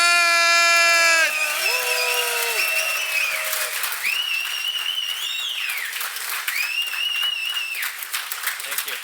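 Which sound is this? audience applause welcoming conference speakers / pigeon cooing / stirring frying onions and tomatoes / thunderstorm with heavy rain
audience applause welcoming conference speakers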